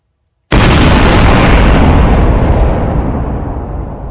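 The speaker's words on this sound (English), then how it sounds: "let me give you your explosion" An explosion sound effect is played: after a brief silence a sudden loud boom bursts in at full level, then a long roaring rumble slowly tails off, with no talk.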